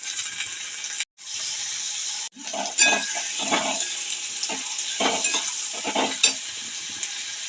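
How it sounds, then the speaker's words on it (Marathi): Onion and tomato fry in a pan for a capsicum vegetable dish, with a steady close sizzle, a couple of brief pauses, and clinks and scrapes from a spoon stirring against the pan. "कांदा चांगला भाजलेला आहे आता टोमॅटो घालून घ्यायचं"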